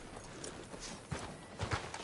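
Horse hooves clip-clop at a steady walking pace in a Western video game, arriving outside a sheriff's office, with a few louder hoof strikes near the end.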